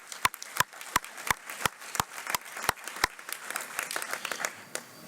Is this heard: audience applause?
yes